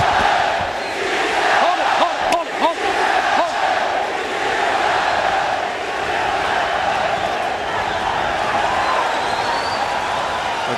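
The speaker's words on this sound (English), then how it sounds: "The crowd certainly seemed happy with the results from round 1." A boxing crowd at the Kostya Tszyu vs Julio Cesar Chavez fight keeps up a loud, continuous roar of cheering throughout, with voices blended into the din.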